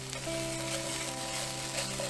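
Finely pressed garlic frying in a pan, a steady close sizzle running unbroken for the whole stretch with faint tonal hum underneath and no voices.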